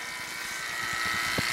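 A vacuum pump pulling down a new HVAC tank runs as a steady, loud mechanical drone with a constant high whine, holding even and continuous throughout.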